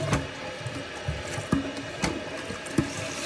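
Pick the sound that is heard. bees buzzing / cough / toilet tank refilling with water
toilet tank refilling with water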